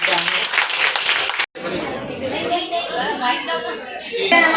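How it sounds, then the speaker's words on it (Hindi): An audience claps loudly and continuously at an Alliance Club installation and induction ceremony, the applause briefly cut off then resuming, with some chatter mixed in. "तालियां जरूर बजाइए"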